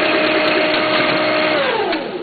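A Duplo 10000s booklet maker with a 48 series unit runs on card stock, giving a steady, loud mechanical whir that holds evenly before easing slightly near the end.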